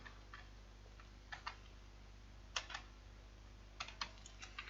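Keys clatter on a computer keyboard while HTML is being written, coming in a few short bursts of soft, close taps separated by pauses over a low steady hum.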